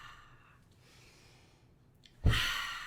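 A deliberate mouth exhale during a qigong exercise, heard near and alone as a short breathy rush after quiet, alongside heels dropping into the floor.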